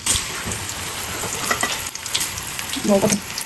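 Frozen food deep-frying in overheated oil makes a loud, bubbling sizzle that carries throughout, with scattered crackles and utensil knocks near the end.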